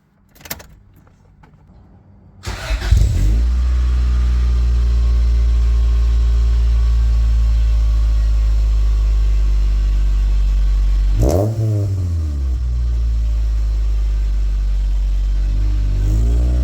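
An Acura Integra starts up and drives off, its engine rising to a steady loud drone with a brief dip and surge of acceleration midway, and no talking.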